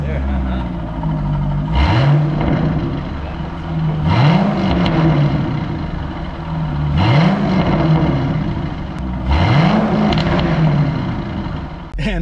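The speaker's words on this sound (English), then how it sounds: "Listen to this thing. It sounds so much more Corvette, and the tips are straight." Deep idle of a C5 Corvette V8 shortly after a cold start with straight exhaust tips, rising in four short revs spaced a few seconds apart over a steady low rumble, close by.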